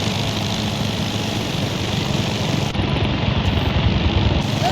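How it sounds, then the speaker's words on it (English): An enemy helicopter in the video game Delta Force drones with a steady rotor and engine roar, loud and continuous across the short stretch. "Enemy heli! Right there!"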